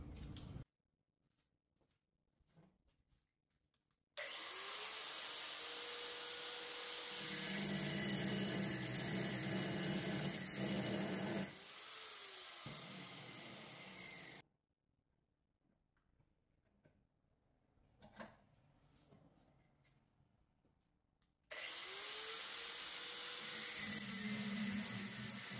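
A cut-off wheel grinds through the rusted metal of a truck bed in loud, close bursts of several seconds each, whining and hissing, with quiet gaps between cuts.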